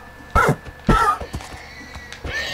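A horse in Minecraft on PS4 gives a few short whinnying neighs, spaced apart and fairly close, with light game clatter between them.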